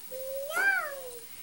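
A small child imitates a kitten's meow with one drawn-out, rising then falling mew, fairly soft and alone against a quiet room.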